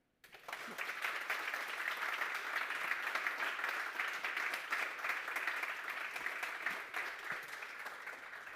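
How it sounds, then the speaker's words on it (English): Steady audience applause fills a conference hall after a talk, a sustained dense clapping that starts abruptly and holds at an even level for several seconds. "Your applause."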